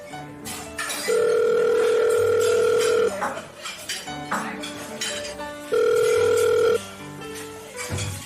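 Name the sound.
telephone call ringing out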